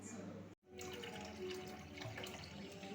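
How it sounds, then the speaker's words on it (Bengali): One litre of water poured from a bottle into a pot, a steady close gushing pour with a brief break near the start, then flowing on unbroken. "1 লিটার জল দিচ্ছি এখানে"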